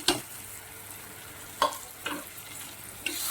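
Spice powder being stirred into tomato masala frying in a pan, soft scrapes and light sizzling in a few brief strokes, faint and close with no talk.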